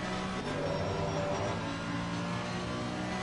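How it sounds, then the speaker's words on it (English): Mercedes race car engine in a racing video game, a loud sustained roar that drones steadily across the whole stretch with shifting harmonic tones as the revs rise and hold. "let's just have a little listen to that Merc"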